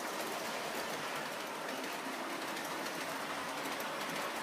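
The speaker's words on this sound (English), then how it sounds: "so I've got some trains running" Model trains run on a home layout, giving a steady, even rushing and rumbling that continues without a break at a moderate level, with no voices.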